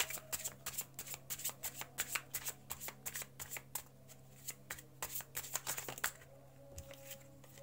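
Tarot cards are shuffled and spread by hand, a rapid run of crisp riffling snaps and flutters in uneven bursts, close and clear, with no talking.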